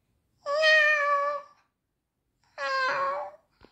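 A cat named Sara gives two clear, drawn-out meows, each about a second long, separated by a short silence and followed by a faint tap; close and fairly loud, no talking.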